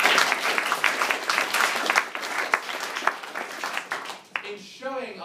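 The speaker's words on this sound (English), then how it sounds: "to give him yet another massive round of applause." Loud sustained applause from an audience at a youth speaking competition, dense clapping that gradually thins out before a voice begins speaking at the end.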